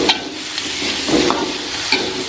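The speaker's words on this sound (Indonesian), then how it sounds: "Ini kita tumis dulu sampai bumbunya harum." Ground spice paste (bumbu) stir-fries in a pan for spicy banana blossom, giving a continuous close sizzle with a few spatula scrapes and taps, and no talking.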